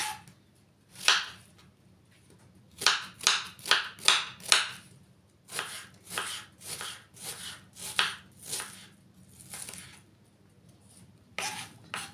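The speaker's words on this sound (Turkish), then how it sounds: "Bunları da aynı şekilde doğruyoruz." Vegetables for oven-baked chicken are sliced on a cutting board, with bursts of sharp, close knife strikes in quick runs separated by short pauses.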